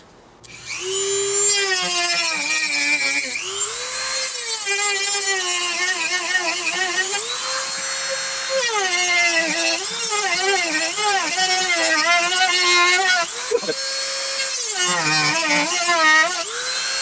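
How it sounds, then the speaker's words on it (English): A Dremel rotary tool drills out a hole in an aquaponics fish feeder fitting, its high whine sweeping up and down in pitch as the bit bites and frees, loud and close with brief pauses between bursts. "I opted for the Dremel route."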